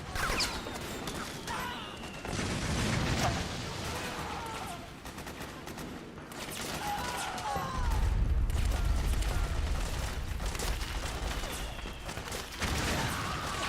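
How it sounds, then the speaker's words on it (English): Sustained gunfire and explosions in a Metal Gear video game, with rattling bursts of shots over a continuous rumbling battle that swells louder midway and stays dense throughout. "It's gunfire. It's everything."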